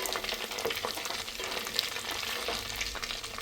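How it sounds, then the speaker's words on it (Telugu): Whole spices, shahjeera and bay leaves, fry in hot oil in a pan for chicken gravy, giving a steady close crackling sizzle with light stirring and no talk. "ఇవి చక్కగా ఫ్రై అవుతున్నాయి."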